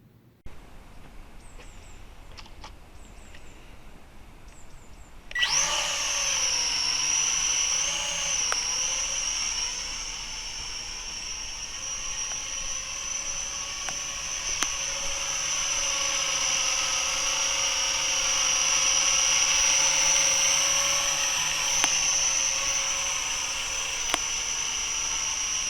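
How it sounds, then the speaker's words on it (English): A small drone's rotors spin up abruptly after a few quiet seconds into a loud, steady high-pitched whine with shifting tones as it flies about for over twenty seconds, with no talk. "I'm going to fly my drone around,"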